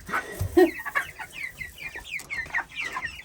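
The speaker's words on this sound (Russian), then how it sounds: "Бройлеры вообще не пуганые." Several broiler chickens cluck and chatter close by in a steady run of short, overlapping calls, with some faint rustling underneath.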